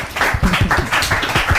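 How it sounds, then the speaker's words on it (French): A television studio audience applauds through a short burst of dense, steady clapping, loud and close, with no voices over it. "Je pensais qu'on allait applaudir."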